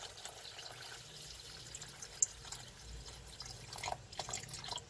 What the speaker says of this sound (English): Now you fill it up to the 2 marking on the inside of the cooker.